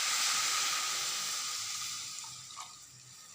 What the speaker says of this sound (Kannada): ಬೇಯಬೇಕಲ್ಲ, ಸ್ವಲ್ಪ ನೀರು ಹಾಕಿ